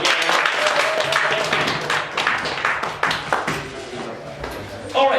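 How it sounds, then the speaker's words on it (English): Audience applause at a dissertation workshop at Mattersey Hall, lively clapping with sharp individual claps that thins out toward the end, with voices mixed in. "round of applause, please, for David Harvey."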